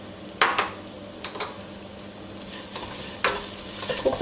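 Salt is mixed into vegetables in a pan for leftover puttu upma: a gentle sizzle with a few clinks and scrapes of a spoon against the pan.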